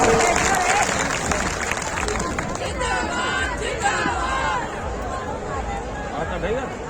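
Applause and crowd noise at a Samyukt Kisan Morcha farmers' mahapanchayat in Jind, Haryana, greeting farmer leader Joginder Singh Ugrahan; a steady wash of clapping and murmur sustained throughout, with voices mixed into the din.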